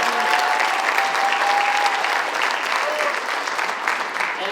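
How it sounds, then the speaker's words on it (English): An audience at a school orchestra concert applauds with sustained, dense clapping that fills the room, steady and loud throughout with faint crowd murmur mixed in. "Let's give them a round of applause."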